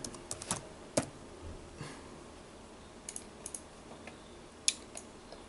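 A computer keyboard is typed on in short irregular bursts of quiet clicks and taps, with sparse keystrokes spread across a hushed room and no talking.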